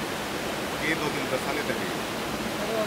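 River water at the Saltos de Jima rainforest in the Dominican Republic rushes steadily, a dense, even hiss of flowing water close by and filling the scene.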